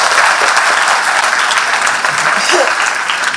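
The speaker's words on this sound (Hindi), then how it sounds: "जोरदार अभिनंदन करो" Loud, sustained applause from an audience at a Rajasthan government scholarship event, dense clapping that fills the whole moment.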